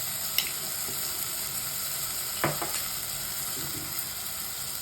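Onions and tomatoes sizzling in hot oil for an egg gravy, a constant frying hiss broken by a few sharp stirring scrapes and spoon taps.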